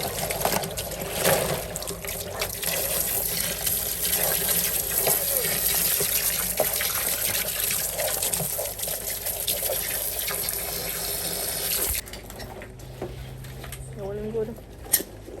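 Water gushes and splashes steadily while Jamaican land crabs are washed, likely from a tap or hose, before cutting out to quieter trickles and a single knock near the end.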